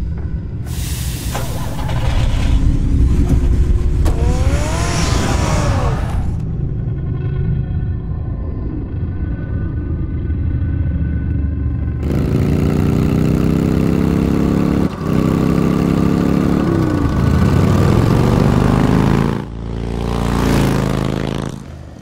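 A Batmobile engine from Batman The Telltale Series rumbles at idle and revs in loud bursts, with sharp rising sweeps early on, a quieter gap, then a deep sustained growl and another surge near the end.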